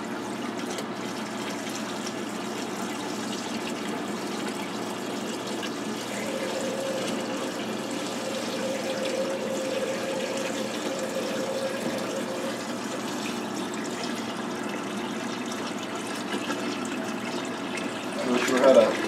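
A siphon drains water from a 125-gallon planted aquarium with a soft, continuous gurgling flow, faint and steady, with a brief louder slurp near the end.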